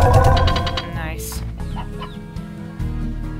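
Several short clucks from chickens in the video game Slime Rancher, a little processed and game-like, come in quick bursts with light background noise.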